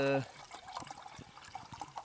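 Brown stream water is poured from a container for cooking noodles at a wild camp, a close, uneven trickle and splash in short bursts after a brief voiced sound at the start.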